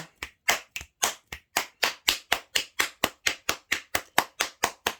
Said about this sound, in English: I hope you can hear me over the clapping.